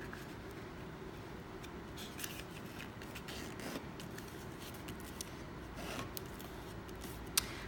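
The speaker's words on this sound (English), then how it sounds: "fold both corners to each other, folding it in half to make our rectangle" Paper is folded by hand to make an origami ninja star, giving faint, soft crinkles and scrapes with a few small crisp creasing clicks against a quiet background.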